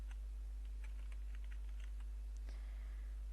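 Light, quick keystrokes on a computer keyboard while building a Microsoft Access form, a short burst of taps followed by a single firmer press, over a constant low electrical hum without speech.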